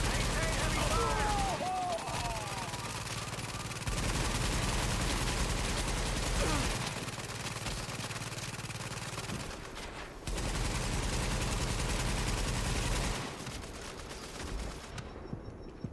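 Sustained heavy gunfire in the open-world shooter The Division, a dense continuous roar of overlapping shots with distant booms, fairly steady throughout with brief dips, voices faintly under it.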